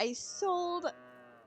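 A cow in Farming Simulator 22 gives a short, close moo with a falling tone over faint background hum.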